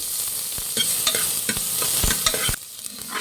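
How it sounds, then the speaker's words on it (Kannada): Finely chopped onion fries in hot oil in a cooker, crackling loudly and continuously, with a few sharp clinks and scrapes of a stirring spoon against the pot and a brief drop in intensity toward the end. "ಈರುಳ್ಳಿ ಫ್ರೈ ಮಾಡಿ"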